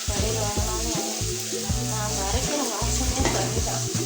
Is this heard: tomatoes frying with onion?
yes